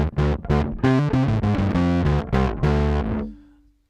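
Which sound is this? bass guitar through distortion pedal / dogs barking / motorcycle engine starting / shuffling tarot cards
bass guitar through distortion pedal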